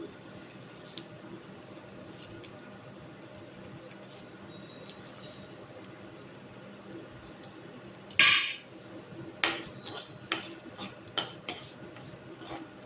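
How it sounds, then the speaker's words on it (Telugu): Three spoons of sesame seeds go into a pan with fried small onion cloves and are stirred, heard as a series of sharp metallic spoon scrapes and clinks after a quiet stretch. "అవి వేసి కొంచెం ఫ్రై చేసి నెక్స్ట్ ఇందులోకి ఒక త్రీ స్పూన్స్ నువ్వులు వేస్తున్నాను"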